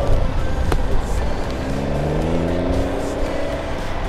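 A heavily modified show car at a high-budget car event idles roughly while overfueling, a loud close rumbling exhaust with a low burbling drone and a sharp crack or pop near the start.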